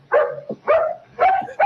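A dog barks in a radio drama set in a Western town, giving four loud, close barks in a steady rhythm with short yips between them.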